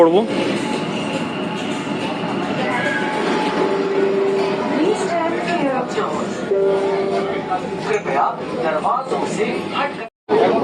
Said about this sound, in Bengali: শিয়ালদা যাওয়ার মেট্রো এই মুহূর্তে ঢুকছে